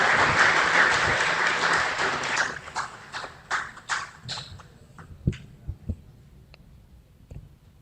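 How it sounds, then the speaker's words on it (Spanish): At a constitutional law conference in Peru, an audience welcomes a speaker with loud, dense applause that holds for about two seconds. It then breaks into scattered individual claps that thin out and stop, with no speech. "Recibimos con fuertes palmas al doctor Carlos Alberto Torres Caro."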